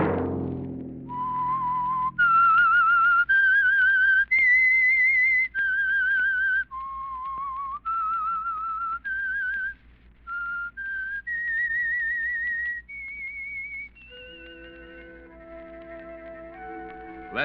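A human whistler performs the theme tune of The Whistler radio show, a clear, solo melody of sustained, slightly wavering notes, loud and close, with no voices.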